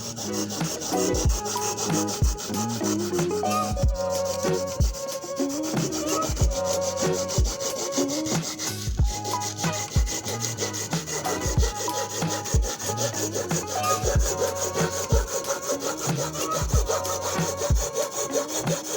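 A handsaw works steadily along a marked cut line, part of building a high-temperature gas kiln for ceramics; close, loud rhythmic strokes continue for the whole stretch with no talking.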